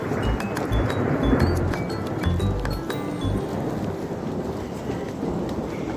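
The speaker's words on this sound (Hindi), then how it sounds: "ऐसी इतनी जोर से बादल कड़क रहा था" Loud, deep thunder rumbles in low bursts through steady heavy rain in Mussoorie, with a constant wash of rainfall close by.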